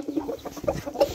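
Chickens cluck in a quick, busy run of short calls, close by and moderately loud, over a brief stretch with no talk.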